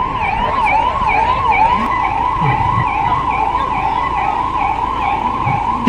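An ambulance siren wails at a mock drill staged at a bus stand in KGF, its rising and falling tone repeating steadily and loudly over vehicle rumble, with no voices.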